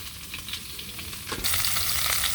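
Potato and cauliflower are sautéed in a pan with green chilli, salt, turmeric and mixed spices, a steady hissing sizzle that jumps suddenly louder partway through, with faint stirring scrapes and no talk.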